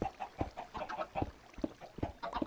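Chickens on a Minecraft (Feed the Beast) chicken farm cluck in a quick, irregular run of short, close bursts, heard on their own with no talk.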